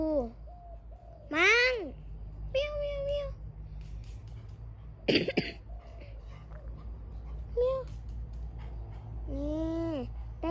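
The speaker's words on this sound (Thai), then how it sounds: "แมวขึ้นต้นไม้อ่ะครับ" A cat up a tree gives several rising and falling meows spread across the scene, fairly near, alongside bird calls, a low steady background hum and some talking.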